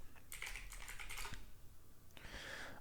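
Bursts of rapid typing on a new computer keyboard, two close clusters of quick clicks separated by a brief pause, alone with no talk over a low background hum.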